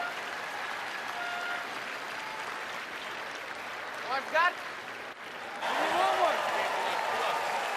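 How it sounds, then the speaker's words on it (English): Applause and cheering from spectators at a men's world curling championship round-robin game, a steady broadband wash with whistle-like cheers rising near the end, heard under a commentator's voice. "you probably heard the applause and the cheers"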